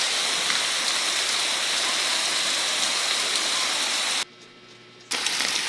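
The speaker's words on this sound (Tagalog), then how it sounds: "Ang lakas nga ng ulan dito." Heavy rain pours down in a dense, steady roar, cutting out abruptly for a moment near the end before resuming.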